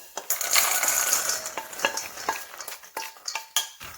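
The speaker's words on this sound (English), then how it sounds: "once it's roasted, you want to turn off your heat and put it into a bowl" Hot roasted peanuts tumble into a bowl from the pan, a dense rattling patter of small hard nuts with sharp clicks scattered through, close and fairly loud, no voices.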